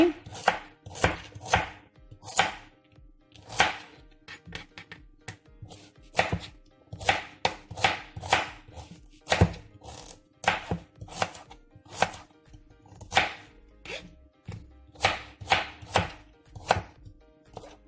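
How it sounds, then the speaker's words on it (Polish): A knife chops carrots into sticks on a cutting board, giving a steady run of sharp, close, evenly spaced taps with no talking. "I teraz marchewkę kroimy takim właśnie półeczkami."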